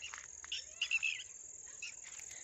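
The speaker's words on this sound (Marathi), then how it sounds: "असा आवाज, पाखरांचा आवाज ऐकायला तशी बरं वाटतं" Small birds calling faintly near a pomegranate orchard in the morning, a few short high chirps over a soft insect buzz, quiet and somewhat distant with no talking.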